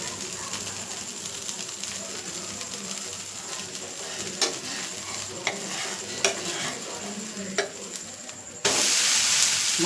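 Dosa batter mixed with grated potato sizzles steadily on a hot pan, with a few light scraping clicks, and a louder hiss swells near the end.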